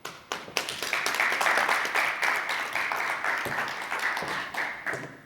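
Close, sustained applause from an audience at a business and commercial banking dialogue, dense clapping that rises quickly and carries evenly for several seconds before thinning slightly.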